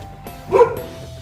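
A dog gives a single close, loud bark, short and sharp, with no talk over it.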